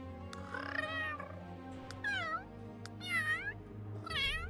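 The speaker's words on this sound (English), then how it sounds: "Let's give you a higher pitched meow." A higher-pitched cat meow from the Sims 3 game, sounding as several distinct, fairly close meows spaced across the clip with no talking.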